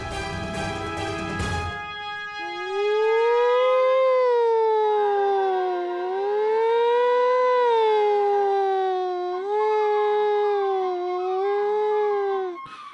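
After a brief burst of noise, a voice imitates a wailing ambulance siren, holding a long rising-and-falling tone, loud and close, with a short break partway through.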